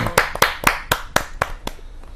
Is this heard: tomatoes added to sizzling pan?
no